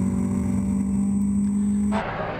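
Renault Clio 3 race cars in a 2014 Clio Cup Benelux race at the Nurburgring, a steady engine drone that holds loud and close before cutting off sharply as the car passes, leaving a fainter roar.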